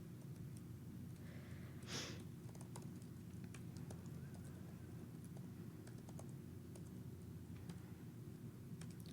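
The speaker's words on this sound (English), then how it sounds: "Let me just retype." Keys on a computer keyboard are tapped in quick, light, scattered clicks over a constant low hum, faint and close, with no talking.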